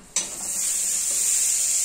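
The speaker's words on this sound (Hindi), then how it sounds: "पैन कढ़ाई जो भी उसे गर्म करेंगे उसमें थोड़ा सा बटर डाल लेंगे" Butter sizzles sharply as it hits a hot kadhai pan, bursting in suddenly and then holding a steady, bright hiss close by, with no talking.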